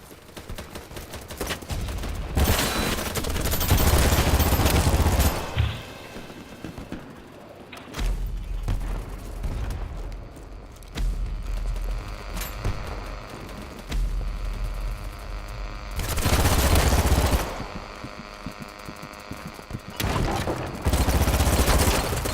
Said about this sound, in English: A lot of bullets.